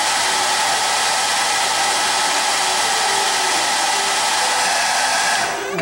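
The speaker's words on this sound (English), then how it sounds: "I use just a heat gun here" A heat gun stiffening a clay pottery lid, producing a loud, continuous airy hiss that stays steady throughout and cuts off abruptly at the very end.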